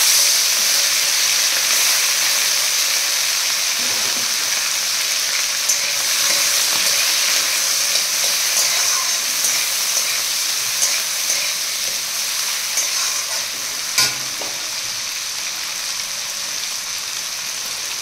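Shrimp sizzle and fry loudly in a pan of hot oil, a dense continuous crackling hiss close up, with a few faint stirring knocks underneath.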